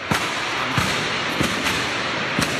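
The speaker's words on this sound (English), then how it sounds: "Police are shooting." Gunshots as police shoot attackers: four or five sharp, distant cracks spaced irregularly over about two seconds, heard against a steady noisy background.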